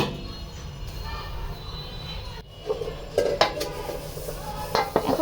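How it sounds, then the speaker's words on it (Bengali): A lid goes onto a pan of winter vegetables, spinach and fish cooking on the stove. A steady low hum runs underneath, followed by several sharp metallic clinks and knocks near the end, with no voices. "এখন সবজিটা আমি ঢাকনা দিয়ে ঢেকে দেওয়ার পালা"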